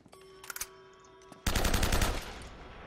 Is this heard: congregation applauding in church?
no